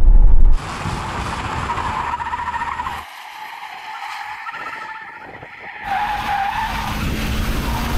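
Tyres of a limousine screeching under hard acceleration, close and loud, with a sustained squeal that wavers and dips before surging again alongside engine roar.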